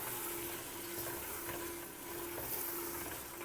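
Round gourd cooks in a pan with cumin seeds, coriander powder and garam masala, giving a steady, close sizzle and scraping stir noise that runs unbroken for a few seconds with no talk.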